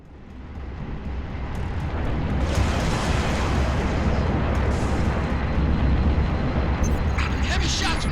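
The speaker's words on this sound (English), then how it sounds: "Being hit by Sabre fire." Sustained heavy gunfire from a Sabre spacecraft strafing the player in Halo Reach, a loud continuous roar of blasts and rumbling impacts that swells and holds throughout, with some voice chatter mixed in.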